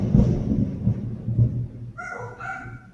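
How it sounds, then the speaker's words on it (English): Loud thunder heard from indoors rumbles deep and heavy in a few rolling surges, then fades as a brief higher-pitched animal call, like a fowl, sounds near the end. "that thunder is definitely outside"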